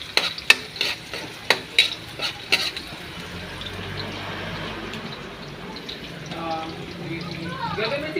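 Fish steak frying in a pan gets stirred, with several sharp scraping clacks of a utensil up front, then a steady soft sizzle, and a voice speaking briefly near the end.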